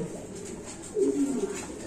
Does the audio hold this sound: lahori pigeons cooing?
yes